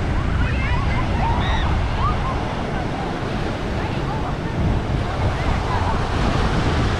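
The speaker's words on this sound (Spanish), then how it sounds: "Qué chulada de playa de Osnar, California, amigos, miren más. Muy bonita playa." Ocean surf at Oxnard beach, California, rolls in as a constant broadband wash blended with wind noise, steady and fairly loud for the whole stretch, with a few faint high chirps above it.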